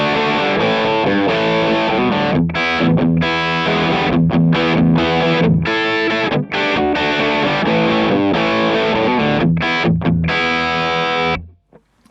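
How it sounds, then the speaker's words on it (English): Electric guitar run through a Nux Cerberus pedal with the gain kept low, giving a crunchy, lightly distorted tone. Loud, steady strummed chords and riffs with brief gaps play alone and cut off abruptly near the end. "Now that's a quite nice crunchy sound."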